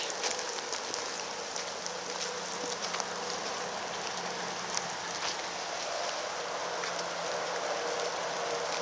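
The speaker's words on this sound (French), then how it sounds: "oh boy, s'il pleut dessus" Steady rain hiss with scattered drops pattering on a surface beside a small lake in Eastman, near Magog, Quebec, constant and fairly soft throughout, with no voices.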